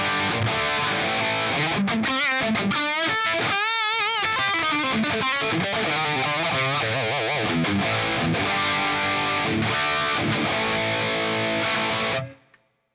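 Distorted electric guitar played through a Line 6 Helix Native amp plugin in Logic, loud sustained chords and wavering bent notes filling the passage before cutting off abruptly at the end.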